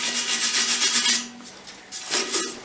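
Wire brushing across fresh welds on a steel welding table, a continuous close, harsh rasping scrub that pauses briefly near the middle and then resumes, with no voices.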